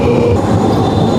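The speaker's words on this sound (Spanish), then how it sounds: "esto de aquí es una estación de tranvía y la ciudad está plagado de ellas" A tram passes at a station in Amsterdam with a loud, continuous rumble and rail noise that stays close, and no voices are heard.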